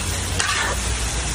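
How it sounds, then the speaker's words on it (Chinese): Carrots stir-frying in hot oil in a wok for Xinjiang pilaf, a dense continuous sizzle with a brief brighter hiss burst near the start, close and loud. "再把胡萝卜倒入油锅内翻炒。"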